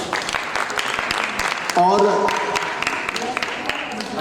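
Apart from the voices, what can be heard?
audience applause at a dance performance ceremony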